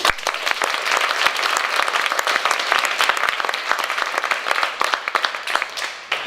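Loud, dense applause from a conference audience at an education event wrap-up, steady and continuous for the whole stretch as a speaker walks up, with no talk over it.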